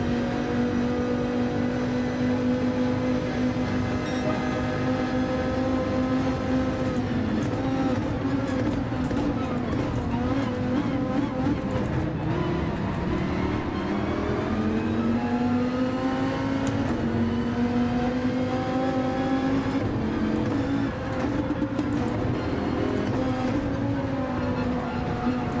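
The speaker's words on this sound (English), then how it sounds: "I want more engine braking, so that's why I'm going crazy with my shifts now." A Dodge Viper GTS-R Gr.3 race car in Gran Turismo 7 at Deep Forest drones steadily at high revs, its engine pitch climbing and dropping through repeated quick shifts and engine braking, with commentary talk running underneath.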